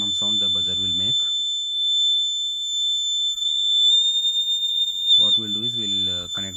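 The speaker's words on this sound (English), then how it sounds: "This is the maximum sound the buzzer will make." A piercing, steady electronic buzzer tone drones loudly and continuously, with someone talking before and after it.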